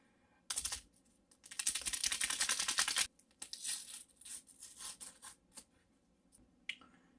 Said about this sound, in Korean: 이번에는 설탕을 개봉해 보도록 하겠습니다